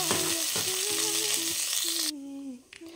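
Cumin seeds, cracked black cardamom, dried red chilli and green cardamom fry in hot oil for a Bengali ghugni with soya chunks. The close, loud sizzle comes with some tonal clinks and a brief scrape, then cuts off sharply.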